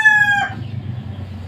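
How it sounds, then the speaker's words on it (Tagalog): A fighting rooster crows close and loud; only the final drawn-out note of the crow is heard before it cuts off, leaving low background rumble and no talking. "Kasabong pala itong hawak ko nga manok ngayon"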